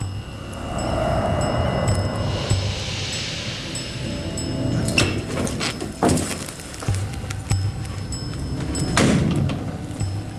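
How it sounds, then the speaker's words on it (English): A hotel room door at the Buck Hill Inn is opened, with a few sharp thunks and clatters from the latch and door against a steady hum of room noise. "Have opened door to room 354."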